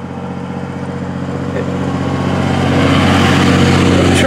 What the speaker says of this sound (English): The truck's kind of loud